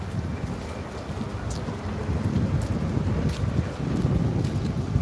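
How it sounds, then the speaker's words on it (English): Wind buffeting an outdoor microphone, a continuous rough rumble that swells and gusts louder toward the end, with faint bursts of hiss above it and no talking. "It's the wind making noise."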